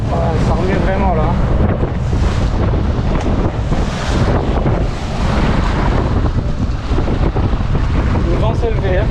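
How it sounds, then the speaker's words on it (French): Strong wind buffeting a fishing boat trolling at sea off Martinique, a loud continuous roar of gusts and microphone rumble mixed with waves and water slapping the hull, with faint voices underneath. "Le vent s'est levé, hein."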